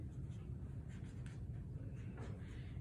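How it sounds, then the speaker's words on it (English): Pen or marker scratching across a school folder as a name is written, soft continuous strokes close up against a faint steady background hiss. "I'm going to put my name on here"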